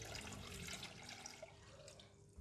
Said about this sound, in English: add in the water